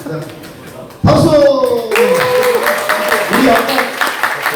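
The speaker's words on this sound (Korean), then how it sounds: "박수!" A voice speaks briefly, then a burst of clapping from a group at a military church service starts up and continues steadily, mixed with cheerful voices.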